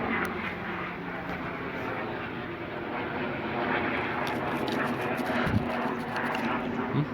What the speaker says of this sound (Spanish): Ahí va el helicóptero.